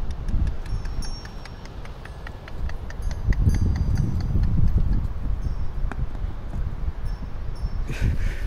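A horse's hooves clip-clopping along a mountain trek trail in the Peer Panchal Range near Mahore, faint irregular steps under steady wind and rustling outdoor noise, without talk.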